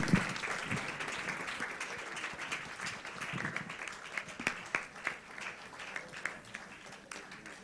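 Sustained audience applause and clapping at a children's day media symposium during a standing ovation, a dense steady wash of many hands with a few sharper claps standing out near the end.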